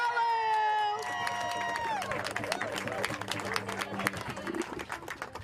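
A rally audience applauds speaker Diallo Brooks with steady, dense clapping and some cheering that follow a fading tone, and the sound keeps going as a continuous wash to the end.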